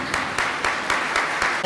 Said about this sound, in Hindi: हाँ जी, अभी भरपूर तालियां